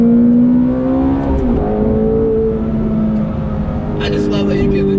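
A stock Ferrari F430 engine revs while driving, a strong, steady harmonic drone that climbs and eases in pitch, close and continuous throughout.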